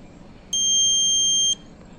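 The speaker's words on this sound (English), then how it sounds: "The second beep shows that the system is ready" A single clear electronic beep from a solar-powered wireless forest fire detection system, a steady high-pitched tone lasting about one second, sounds over quiet background hum.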